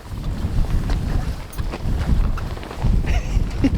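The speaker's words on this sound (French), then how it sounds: "il y a le vent qui se lève en même temps" Wind picking up outdoors at a mountain freeride event, heard as a continuous low buffeting rumble against the microphone that swells and eases in gusts, with no voices.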